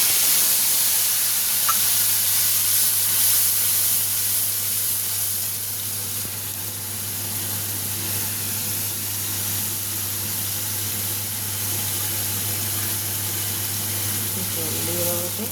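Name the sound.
mustard and green chili paste sizzling in hot pan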